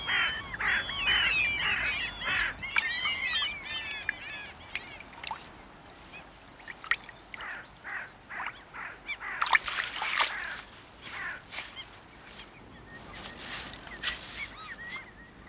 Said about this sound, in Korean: 바로 얼룩무늬를 가진 까마귀입니다